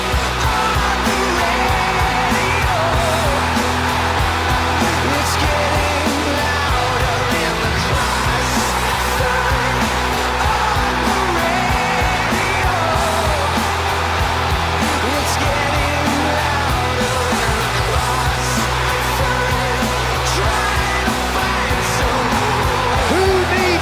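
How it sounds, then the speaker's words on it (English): A football crowd at the JJB Stadium for Wigan Athletic against Newcastle United in 2005 roars and screams, a dense, continuous wall of massed voices that stays loud throughout. "I hear them scream."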